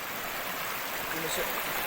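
A village river in the Konkan countryside rushes in a steady, broad hiss of flowing water, close and continuous throughout, with a voice talking over it.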